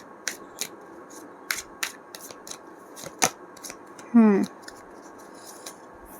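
Tarot cards shuffled and drawn by hand: a series of quick, crisp flicks and taps, then one short riffling snap, close and fairly quiet.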